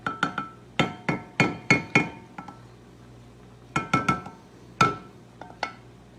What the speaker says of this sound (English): letting that spaghetti sauce keep warm, but stirring at the same time.